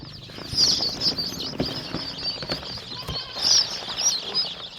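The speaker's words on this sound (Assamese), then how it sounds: "এইকেইটা মুৰ্গী পোৱালি আছে 150" About 150 local chicken chicks cheeping in high, overlapping peeps, with rustling and fluttering close by as they move about.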